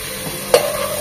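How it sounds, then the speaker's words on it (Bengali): Spices sautéing in a pan for chicken badshah, a steady quiet sizzle broken by one sharp scrape of a stirring spoon midway, with no voices. "সবকিছু ভালোভাবে কষিয়ে নেব।"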